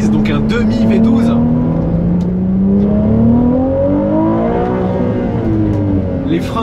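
A Ferrari 296 GTB V6 engine revs loudly and close, its pitch rising and falling in smooth sweeps from inside the car, with a voice talking over it.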